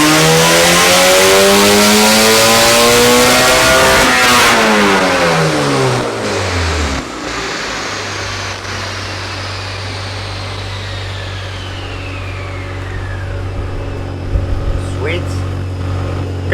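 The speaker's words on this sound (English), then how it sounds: "Got our first touch of rev limiter there." A Honda K20-swapped Mazda Miata road-racing car screams through a loud rising rev on a dyno, bouncing off the rev limiter, then drops back to a steady idle as someone briefly speaks.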